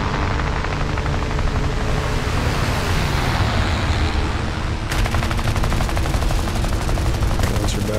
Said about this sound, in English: Reload, burn out my guns.